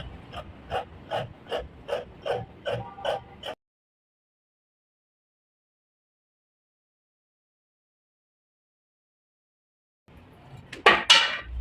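Scissors cut fabric for palazzo trousers along the back crotch curve: about eight crisp, evenly spaced snips, then a long silence and a louder burst of handling near the end.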